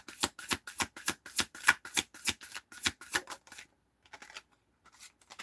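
Tarot cards are shuffled in a fast, even run of crisp riffling snaps that stops abruptly, followed by a few soft, faint card taps. No voice is heard.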